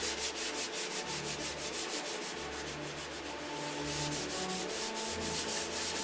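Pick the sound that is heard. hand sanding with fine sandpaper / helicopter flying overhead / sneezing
hand sanding with fine sandpaper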